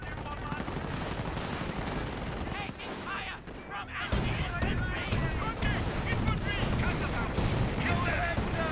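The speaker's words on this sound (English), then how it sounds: "Rifle Grenadiers firing away." Rifle grenadiers firing in the WWII strategy game Company of Heroes, a dense, continuous clatter of rifle and machine-gun fire with booming impacts, loud throughout, while a voice talks over the battle.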